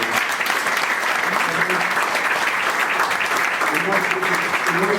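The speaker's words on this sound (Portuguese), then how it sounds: "uma grande salva de palmas para o Bruno" A crowd claps steadily and loudly for Bruno Alves at a Futebol Clube do Porto club-day event in Felgueiras, with a dense, continuous wash of applause that runs the whole time and voices murmuring underneath.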